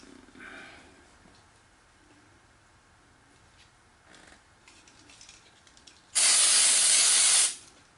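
A single loud, hissing burst of aerosol contact cleaner, lasting just over a second, is sprayed onto the parts of a Sony Betamax 711B VCR after quiet handling noises.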